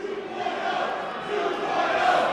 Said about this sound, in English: Crowd getting on the case of GPA